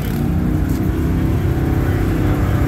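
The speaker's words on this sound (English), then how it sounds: "Everybody's doing burnouts and getting tight up here." A car's engine revs hard during a burnout at an outdoor car cruise, a steady loud roaring drone with rough low rumble throughout, no voices.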